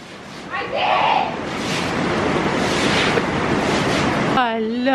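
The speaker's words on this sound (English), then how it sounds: "It's like a actual torrential rain pour." Heavy torrential rain pours down steadily outdoors, a loud broad roar with wind buffeting the microphone, and a voice briefly speaks near the start and end.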